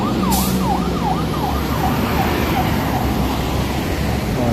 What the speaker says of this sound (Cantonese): 一早讓咗條線出嚟俾消防車啊！